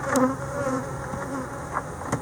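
Honeybees buzz steadily around an opened hive, a dense continuous drone with a few sharper passes of individual bees flying close.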